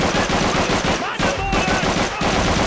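Sten submachine gun from Call of Duty 3 fires in loud, sustained automatic bursts with two brief breaks, rapid rattling shots close and dense throughout.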